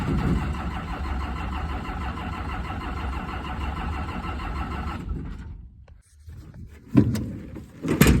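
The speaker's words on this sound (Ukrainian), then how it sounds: "Заводиться, заведеться чи ні, заведеться." A combine harvester engine in a soybean field cranks and runs with a steady, loud mechanical roar for about five seconds, then cuts out and falls quiet before scattered knocks and clunks follow.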